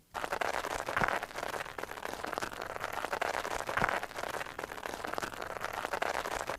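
A shoe scrapes and grinds against gravel in a steady, gritty rasp that repeats as a loop, with soft thumps recurring about every three seconds.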